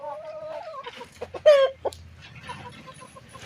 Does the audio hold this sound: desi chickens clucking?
yes